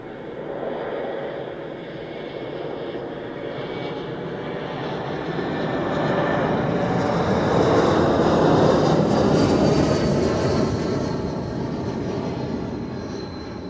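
An Air France airliner lands at Zurich Airport, its engine roar building from a distant rumble to a broad, loud swell and then easing slightly as it passes.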